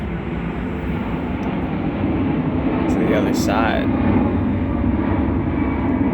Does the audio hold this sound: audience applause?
no